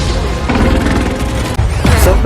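In the sci-fi war film Atlas, fuel is shot and blows up a group of soldiers. Loud crashing blasts and rumbling impacts come in quick succession, ending in a heavier boom.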